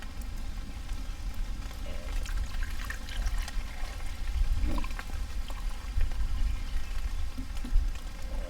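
Liquid solution poured into a glass container, a faint, steady trickle and splash under a rushing background noise.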